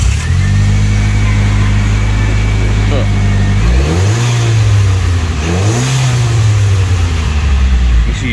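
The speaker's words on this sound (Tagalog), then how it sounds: "Palayas naman ng makina." A Mitsubishi Eclipse engine in a garage idles loudly, then is blipped twice, each rev climbing sharply and dropping back, close and dominant throughout.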